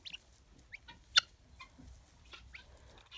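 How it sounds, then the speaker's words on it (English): Four small chicks peep and a rooster clucks nearby in a quiet outdoor pen, giving scattered short high chirps and one sharper squawk against faint low background noise. "There's a little 4 babies and a rooster."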